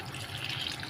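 Water poured into a cooking pan of spiced masala for a drumstick and egg curry, a steady, even splashing stream for about a second at moderate volume.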